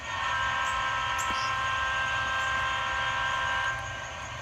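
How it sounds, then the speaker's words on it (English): A Norfolk Southern train rumbles past at close range in a steady, loud wash of wheel and rail noise with sustained tonal squeal, easing slightly at the end; no one speaks. "there's Norfolk Southern train"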